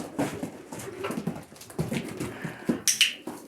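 Dog whimpering during obedience training, several short high whines and yelps scattered in uneven bursts, fairly close, with some scuffling and thumps between them.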